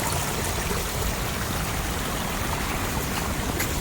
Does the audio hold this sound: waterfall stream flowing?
yes